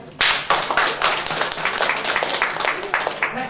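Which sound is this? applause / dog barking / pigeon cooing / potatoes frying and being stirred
applause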